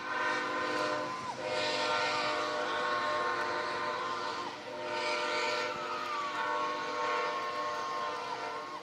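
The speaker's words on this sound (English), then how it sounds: "another train comes through" A train rumbles past near a baseball field, sounding a long horn several times over steady rail noise at a moderate distance.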